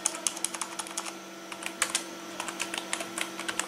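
Typing HTML code on a computer keyboard, a steady run of crisp, close keystrokes in quick irregular rhythm over a faint electrical hum, with no talking.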